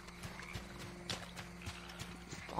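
A horse in the video game Red Dead Online, its hooves clip-clopping in a quick, regular rhythm at low volume against a steady background hum.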